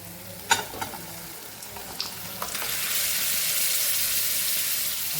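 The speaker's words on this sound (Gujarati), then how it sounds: "આપણી જે દાળ બાફેલી છે એ અહીં આપણે ઉમેરી દઈશું" Boiled dal poured into a pan of softened, sizzling tomatoes for Gujarati panchratna dal: a few sharp clatters and splashes, then a steady, rising hiss and sizzle that fills the rest of the clip, with no talking.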